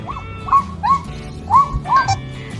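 Dogs out on a socialization walk, heard as a handful of short whiny yips and whimpering barks in quick succession, close by and fairly loud over a soft outdoor background.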